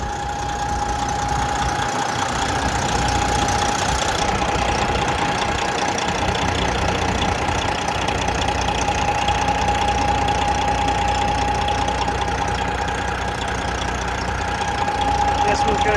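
A 2018 Peterbilt 389 factory glider daycab with a 12.7-liter Detroit diesel at about 200,000 miles idles in a steady, continuous rumble with a constant whine riding on top, loud and close throughout.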